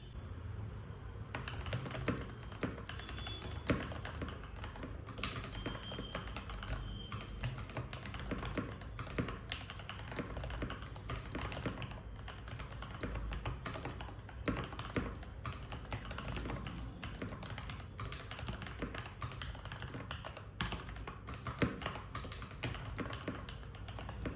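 Typing on a Keychron K8 Pro mechanical keyboard with brown switches, a rapid, uneven stream of soft close clicks and taps that runs continuously without speech.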